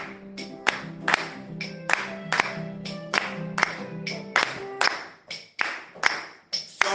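Congregation clapping during an intense evening prayer service, rhythmic, sharp claps in a steady beat, moderately close and prominent, with a sustained tone beneath.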